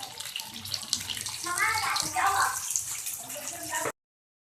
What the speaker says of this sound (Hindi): ऑयल में हमने अपनी भरी हुई मिर्चें डाल दी हैं। इनको फ्राई करेंगे अब हम।